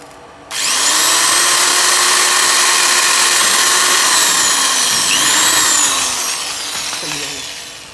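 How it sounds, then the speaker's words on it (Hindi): A handheld electric drill bores a hole into an empty metal spray paint can, a loud, steady high-pitched whine lasting about seven seconds with a slight pitch dip near the end. "तो इसको मैं ड्रिल से होल करता हूँ"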